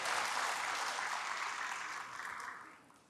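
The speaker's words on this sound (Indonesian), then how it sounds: "Berikan tepuk tangan dulu bagi Tuhan." A church congregation claps together in steady broadband applause, loud at first and gradually fading toward the end, with no voices over it.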